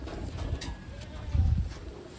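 Pigeons coo in a couple of soft, low, throaty bursts, fairly close and fairly quiet, over faint background noise.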